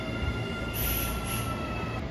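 A Hanshin Railway eight-car rapid express train passes close by with a steady, loud rumble of wheels on rails, and a thin metallic squeal rises over it partway through.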